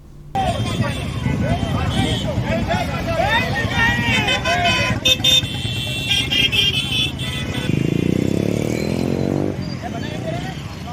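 A motorcycle rally held by a motorcycle mechanics' association rumbles with engines and traffic, punctuated by repeated horn toots and beeps, while a crowd chatters and voices talk over the noise.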